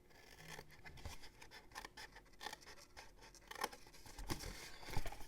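Scissors snipping through paper squares while an accordion gift box is cut, a series of soft, faint crisp snips and rustles in a quiet room.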